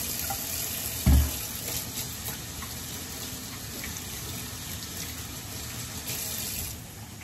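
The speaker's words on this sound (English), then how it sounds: "Wash my hands." Hands being washed under a running tap, with a steady, close rush of water that lasts throughout and one brief knock near the start.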